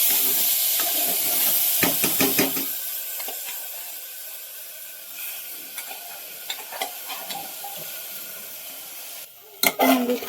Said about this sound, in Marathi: तांदूळ थोडे भाजून घ्यायचे